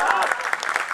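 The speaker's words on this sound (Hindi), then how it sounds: "जितने लोगों ने ताली बजाई है" Audience at a Hindi kavi sammelan poetry recital at a college claps in a dense, rapid patter for about a second, steady and fairly loud.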